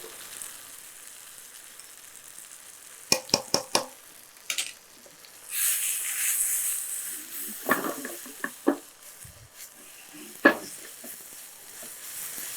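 Chicken pakoda tossed with turmeric, Kashmiri chilli and pepper powders fries on a low flame, giving a soft steady sizzle broken by a few clinks and scrapes of stirring, close and fairly quiet, with no talk.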